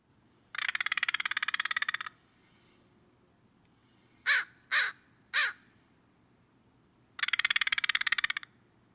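An American crow gives harsh caws close by. A long rasping call opens, three short sharp caws follow, and another drawn-out caw ends the sequence over a quiet background.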